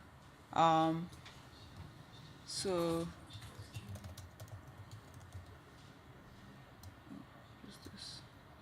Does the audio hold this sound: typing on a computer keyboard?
yes